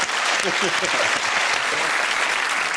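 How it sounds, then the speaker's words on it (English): Studio audience applause on a comedy panel quiz show, a dense steady wash of clapping filling the whole stretch, with faint voices and laughter mixed underneath. "Round of applause."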